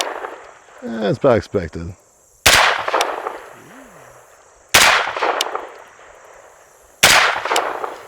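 Three sharp, loud shots ring out at spaced intervals from a rifle fitted with a budget EOTech-style red dot sight, each trailing off in a long echo. Someone speaks briefly before the first shot.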